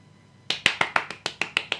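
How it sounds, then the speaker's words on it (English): A podcast host clapping his hands, eight sharp, evenly spaced claps close to the microphone after a moment of near silence. "That's me clapping."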